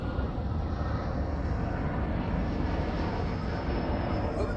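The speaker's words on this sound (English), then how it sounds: "Another jet going over." A jet airliner passes overhead during a lake fishing trip, a steady broad roar that fills the whole stretch without rising or fading much, with no talking.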